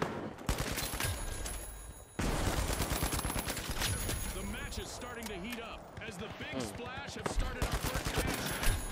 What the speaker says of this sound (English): It's just constant fucking gunfire.